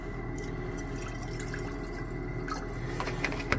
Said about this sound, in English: So I just want to do a couple of rinses here with some distilled water.